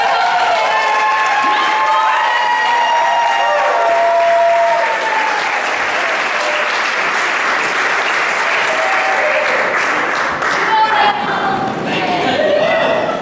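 A large audience at a leadership academy event claps and cheers continuously, with whoops and scattered voices rising over the sustained applause.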